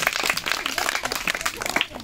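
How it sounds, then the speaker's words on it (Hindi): Audience applause at a children's fancy dress competition, dense continuous clapping close by with crowd noise mixed in, brief and steady. "ताली बजाओ भाई।"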